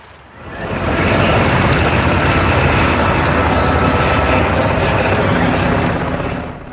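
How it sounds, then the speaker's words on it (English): A helicopter carrying loads of cement through the Grand Canyon swells in and holds as a loud, broad, steady rotor and engine roar close by before easing slightly at the end. "A helicopter shuttled up and down the canyon with loads of cement for a nearby construction project."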